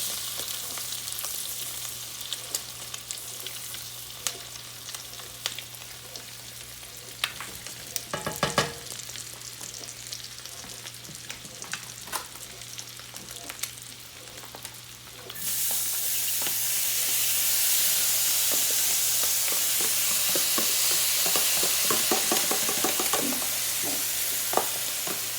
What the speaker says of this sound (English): Throw that in the mix, and we'll give it a stir.